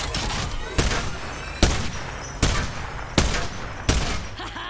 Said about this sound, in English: the first few rounds of Sheila is always scattered